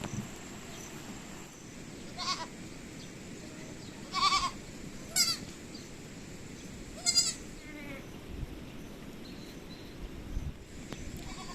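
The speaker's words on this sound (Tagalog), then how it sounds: "kambing mo lahat yan?" Goats bleat several times at a distance, short separate calls spaced a second or two apart over a constant low rural background hiss.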